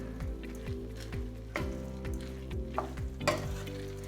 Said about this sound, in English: we want the rice to start to absorb all these flavors that we already have in the pan. And we want the grain to toast up a little bit